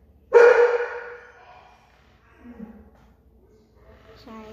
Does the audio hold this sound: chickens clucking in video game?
no